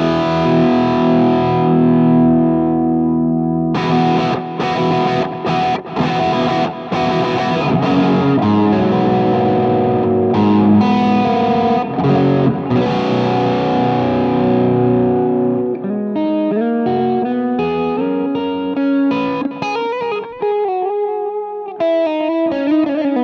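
Electric guitar played through a Boss GX-100 pedal processor on overdrive settings, loud continuous distorted chords and riffs giving way to lighter picked notes near the end, with no voices.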